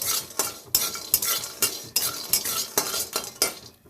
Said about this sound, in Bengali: বেগুনের তেল ছিল তাতেই বড়ি দিয়ে দিলাম বড়িটা ভেজে নিলাম